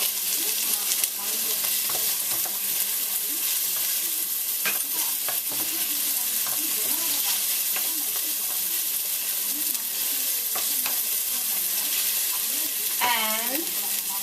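Whole carrots sizzle in a hot pot for vegetarian chili as a spoon stirs and scrapes through them, a steady close frying hiss with intermittent clacks of stirring.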